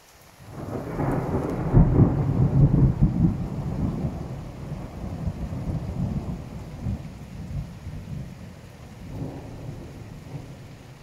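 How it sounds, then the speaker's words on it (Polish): A powerful thunderclap in a storm, a deep loud rumble swelling early and slowly fading over rain for several seconds. "ostatni piorun już w sumie chyba kończy. Ale taki mocny."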